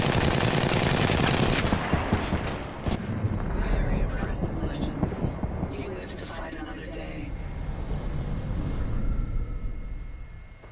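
Rapid machine-gun fire from Apex Legends in an Arenas match bursts loudly at the start, then continues as scattered shots and a steady combat din under ongoing talk between players.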